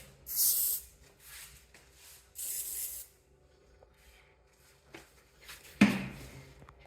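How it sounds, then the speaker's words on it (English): Hairspray sprayed onto a girl's long hair while a ballet bun is styled, several short aerosol hisses in bursts with quiet gaps, close by. "Step is to load a ton of hairspray on"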